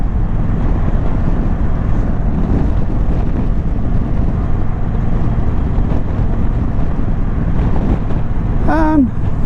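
Wind buffets a motorcycle rider's helmet on the M6 motorway near junction 19 at around 60 mph, a loud, constant roaring rush of air with a low engine drone beneath and no let-up.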